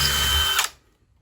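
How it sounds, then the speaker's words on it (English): A power drill bores holes into a wall for mounting a TV bracket, running loud and steady close by for a moment before winding down and stopping. "So now we will drill the holes that we need in the positions located, being careful to drill as level as possible."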